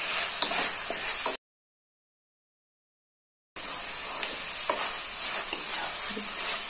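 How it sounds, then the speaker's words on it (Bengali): Boiled banana flower being stirred and fried in a pan, a steady sizzle with scraping stir strokes, broken by a gap of silence partway through. "আমি এটা ঠিক করে নাড়াচাড়া করে নেব।"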